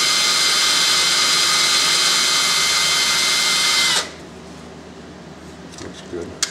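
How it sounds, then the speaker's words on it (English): A small power drill carves a coffee pot, whining loudly and steadily for about four seconds before cutting off, followed by quiet room noise and a few faint handling clicks. "I'm going to take this little drill out of here"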